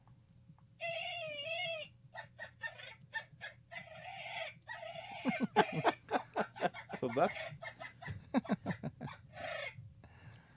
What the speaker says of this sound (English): Could we hear a woodpecker in distress?